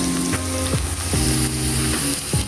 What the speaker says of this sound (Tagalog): lagay na natin yung ating bawang mga kumars.